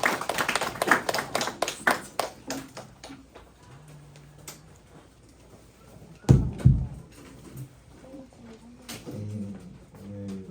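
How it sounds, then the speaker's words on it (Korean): Youth congregation at a Sunday church service claps together, a quick burst of sharp hand claps opening loud and near, then sparse taps and a second brief clatter, with murmured voices afterward. "우리를 비추시고 구원하신 하나님께 우리 함께 박수로 영광 드리겠습니다"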